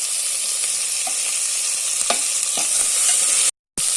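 Onions, green chillies and curry leaves sizzle in hot oil in a pan for quail biryani, a continuous loud frying hiss with occasional stirring scrapes, cut by a short silent gap.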